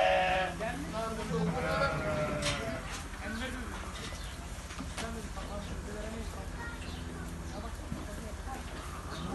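Several lambs being raised for sacrifice bleat loudly nearby in a village, overlapping cries in the first seconds, then quieter bleats and a low cooing amid background noise.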